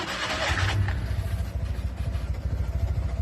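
A small Fiat 500 car engine turns over on the starter and catches, settling into a steady, low, throbbing idle with a light mechanical clatter, heard close with no talking.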